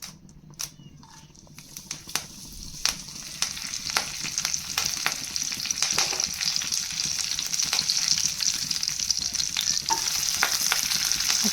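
Mustard seeds and curry leaves sizzle and crackle in hot oil, a steady dense frying hiss with scattered sharp pops growing louder and fuller over the span, no voices.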